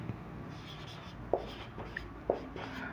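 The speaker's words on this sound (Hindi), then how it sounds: "तो चलिए हम लोग लिखते हैं यहाँ पे" Pen or pencil writing on paper while a class 10 math solution is worked out: soft scratchy strokes with a few sharper taps, close and quiet, with no voice.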